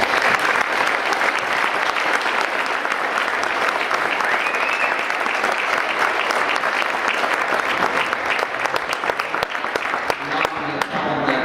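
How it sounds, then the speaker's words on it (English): Sustained, loud audience applause for children at a school winter sports awards event, a dense wash of clapping that runs for several seconds before thinning out toward the end, with some voices mixed in. "Let's give them a round of applause."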